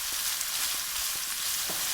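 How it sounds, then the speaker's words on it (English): Red onions sautéing in a pan, a dense, even sizzle that stays loud and steady throughout, with a few soft stirring knocks underneath and no voices. "We're just going to allow all this to saute and get near translucent"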